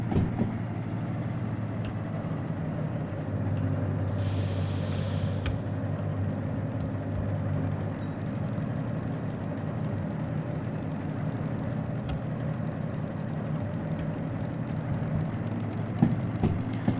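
Locomotive running in the Derail Valley train simulator game, a steady low engine rumble and drone carrying on throughout, with brief clicks and a short hiss near the start.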